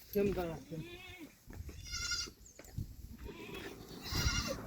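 Several goats bleat in turn from a bamboo-built goat shed, some close and loud, others farther off, with people talking over and between the calls.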